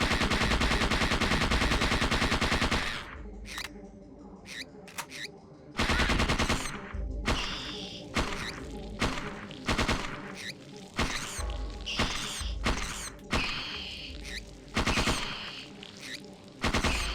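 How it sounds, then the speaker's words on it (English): Gunfire from the video game Parasite Eve 2 opens with a dense, continuous burst, then breaks into repeated sharp shots in irregular clusters, loud and close. "Just don't see what I'm shooting. I'm just gonna shoot."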